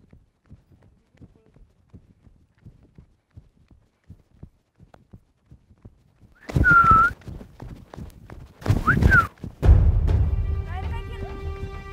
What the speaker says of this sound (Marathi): कुठं काय शिट्टी मारली?